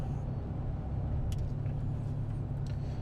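A 2015 Chevrolet Silverado 4x4 pickup cruises down the road, a steady low engine and road rumble heard from inside the cab, with a few faint clicks and rattles; no one speaks.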